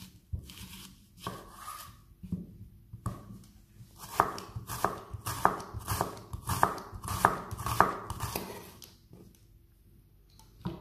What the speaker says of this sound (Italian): Ora affettiamo anche la cipolla.